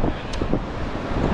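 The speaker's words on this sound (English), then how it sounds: "I don't think you're going to be able to hear me because of the wind" Wind buffets the microphone outdoors at St Michael's Mount in Cornwall, a steady loud low rumble with no clear voice over it.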